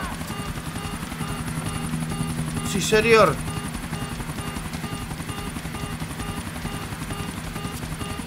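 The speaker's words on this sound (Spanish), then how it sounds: "Y nos salimos volando en el helicóptero, como corresponde." Helicopter in GTA IV flying with a steady rotor drone that runs the whole way, under a brief spoken remark and a short burst of other game sound near the middle.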